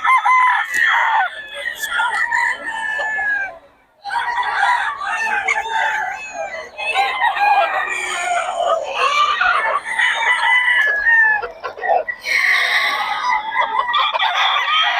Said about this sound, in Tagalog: Ang gulo ng mga manok dito.